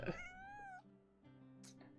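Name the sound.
cat meowing in a video game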